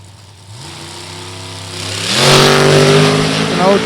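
A nitrous-equipped top dragster on a drag strip roars loud and near, its engine note climbing sharply as it builds power, with a voice talking over the noise.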